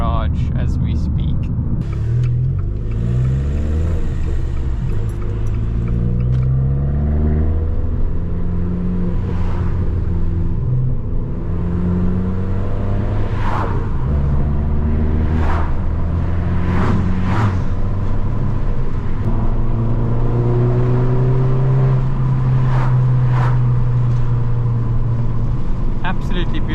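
Fiat Abarth 595 with a 1.4 turbo engine driving through the countryside, engine rumbling and rising in pitch through the gears, steady and close from inside, with occasional clicks and a voice talking over it.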